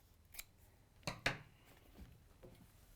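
Scissors snipping away the fabric bulk from a sewn seam, with a faint click followed by two close, crisp cuts, then softer handling noises in a quiet room.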